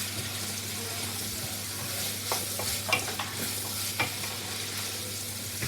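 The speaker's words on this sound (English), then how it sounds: "Just quick fry, about 5 to 7 minutes" Carrots quick-frying in a pan for beef or vegetable stew give a steady sizzle, with a few soft clinks and scrapes from a stirring utensil scattered through it.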